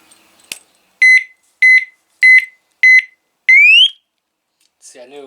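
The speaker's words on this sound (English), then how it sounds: "It gives you that little 3-second beep" Abus 350 disc lock alarm sounds a series of short, loud, evenly spaced electronic beeps, five in all, the last one rising in pitch, then a brief voice at the end.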